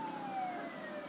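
A police car siren in the video game Lego Marvel Superheroes, a thin wailing tone sliding slowly downward, moderately faint and steady throughout, without speech.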